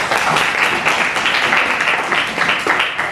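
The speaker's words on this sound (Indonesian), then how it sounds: "Tepuk tangan dulu dong." A classroom group claps together in a dense, steady burst of applause lasting a few seconds, fairly loud and close with no pauses.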